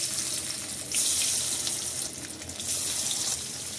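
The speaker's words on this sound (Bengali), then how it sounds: "এখন এই তেলের ভিতরেই বাকি যেগুলো আছে এগুলো ফ্রাই করব" Loitta (Bombay duck) fish, KFC-style coated, frying in hot oil with a steady, loud broadband hiss and crackle that swells and eases in waves, with no voices.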